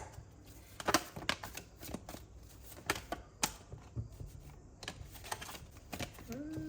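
Tarot cards shuffled by hand in a series of quick, close riffling bursts with brief pauses between them, moderately loud, with no talking.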